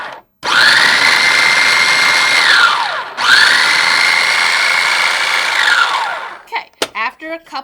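A small food processor chops chickpeas for pumpkin hummus in two loud, close whirring bursts of about three seconds each, motor pitch rising then winding down, followed by a few short pulses.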